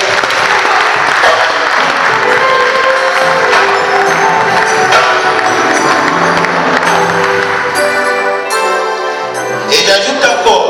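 Congregation applauding during a church ordination service for an evangelist, sustained loud clapping from a large crowd with music and some voices mixed in, continuing throughout.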